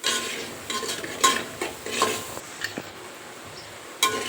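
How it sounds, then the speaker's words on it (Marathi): Spiced masala for a village-style whole masoor curry stirred and sautéed in a pan, a spoon scraping with soft intermittent clinks over a faint sizzle, close and fairly quiet with a few sharper taps. "हे बघा, आपला मसाला छान असा परतलेला आहे।"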